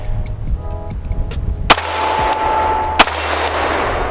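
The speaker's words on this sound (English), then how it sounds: "So now let's shoot this thing." Two loud gunshots crack from a firearm fitted with a FLUX Defense brace, each a sharp, close report with a ringing tail, the second following about a second after the first.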